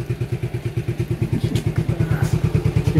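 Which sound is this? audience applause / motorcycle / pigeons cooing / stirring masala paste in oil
motorcycle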